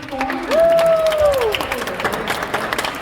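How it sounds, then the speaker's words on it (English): An audience at an anniversary performance celebration applauds a first-time performer, steady crowd clapping with a sustained whistle-like tone rising and falling briefly over it. "let's give a round of applause for a first time performance."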